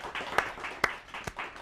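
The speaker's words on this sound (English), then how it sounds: "Clap your hands." A few audience members clap in a sparse, slow rhythm of roughly four separate hand claps, faint and somewhat distant, with no talk over them.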